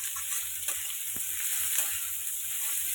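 Stuffed bitter gourd fries on a low flame in a pan, giving a steady, fairly quiet sizzling hiss with a couple of faint ticks, uninterrupted by talk.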